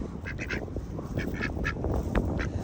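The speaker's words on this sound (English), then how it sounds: "I've never seen a duck like that," Ducks quack repeatedly at a windy lake while being fed, several short nasal calls at moderate distance over steady wind rumble.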